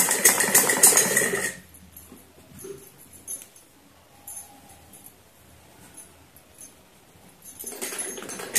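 A sewing machine stitches a semi-Patiala salwar seam in a loud close whirring burst at the start and end, with quieter handling sounds and faint background noise between.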